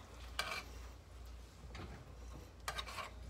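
Crawfish étouffée being stirred in butter in a pot: soft, quiet scraping and faint sizzling over a low background hum, with a few brief brighter clinks of the spoon against the pot.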